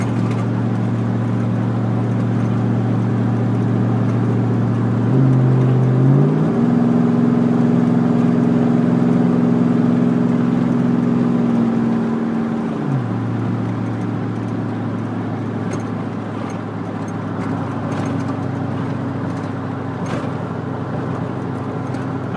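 A Chevrolet Silverado pickup with a custom exhaust cruises along, its low steady drone rising in pitch for several seconds as it accelerates, then settling back to a deep even hum, heard from inside with no talking.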